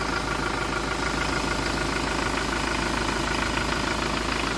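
A 2022 Toyota Hilux pickup's 2.4-litre engine idles steadily and close by, a continuous low rumble with a faint knocking pulse and no voices.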